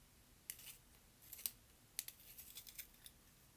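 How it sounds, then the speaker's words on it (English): A colour pencil turned in a small sharpener, giving faint, scattered scraping and clicking bursts that quicken toward the end, close but very quiet. "let me see if I can sharpen my color pencil"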